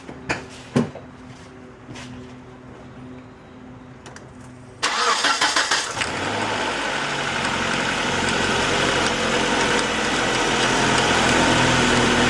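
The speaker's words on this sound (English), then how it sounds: "I'll turn on the AC so you can hear it, and then I'll come back out and you can listen to that pulley" A 1997 Nissan Altima's engine running with the AC switched on, a faint background hum and a few knocks giving way to a louder, steady mechanical whir and pulley noise that persists to the end.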